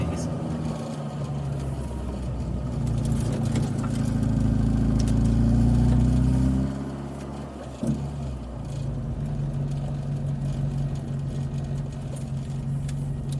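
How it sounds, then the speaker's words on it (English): A classic Mini Cooper JCW (John Cooper Works) with Tiffany & Co. styling, heard from inside on a ride along: a loud, low engine drone swells for several seconds, drops off sharply, then settles into a steadier cruising hum with a single thump. "that was your drive and ride along in a Tiffany and Company theme inspired classic Mini Cooper"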